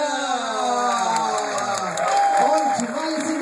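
An audience at a poetry slam claps and cheers in a steady, dense wash of applause with scattered whoops, while an amplified voice speaks over the top of it.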